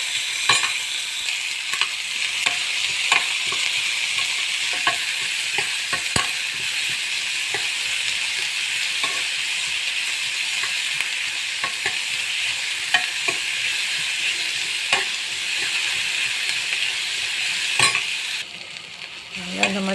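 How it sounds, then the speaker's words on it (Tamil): Onion, garlic and green chili sauté in hot oil in a pan, a constant close sizzle broken by frequent sharp scrapes and taps of a stirring spoon, easing near the end. "வெங்காயம், பூண்டு, பச்சை மிளகாய் சேர்த்து நல்லா வதக்கணும்."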